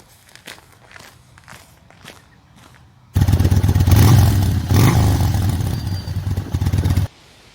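A 2021 Harley-Davidson Street Bob 114 in Baja Orange starts and idles loudly up close, a steady deep engine rumble running for about four seconds after some quiet footsteps and handling noises, then cutting off abruptly.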